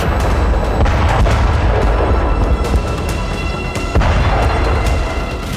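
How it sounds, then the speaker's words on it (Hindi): Artillery explosions in war footage from Zaporizhzhia, Ukraine, rumble loudly and continuously, with repeated heavy booms over a dense low roar. "धमाकों से कांपती जमीन, आग से झुलसते टैंक और आर्टिलरी,"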